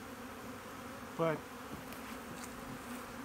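Honey bees buzz faintly around a hive during an evaluation of a potential breeder colony, a brief louder buzz passing close over low steady background hum.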